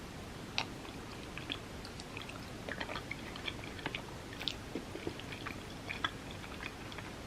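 Someone chews vegan coconut korma from an Indian meal, with soft, moist mouth sounds and small clicks repeating close to the microphone against a quiet background.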